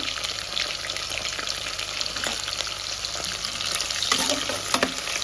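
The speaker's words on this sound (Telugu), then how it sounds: "ఇప్పుడు ఒక రెండు పచ్చిమిర్చీలు చీల్చుకొని వేసుకున్నాము" Slit green chillies fry in a pan on the stove, crackling and sputtering in a dense, steady sizzle that swells slightly near the end.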